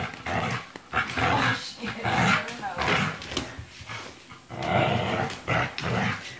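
A pit bull growls and snarls in bursts while playing, the rough rumbling close and loud, running in repeated surges over the whole stretch with short pauses between.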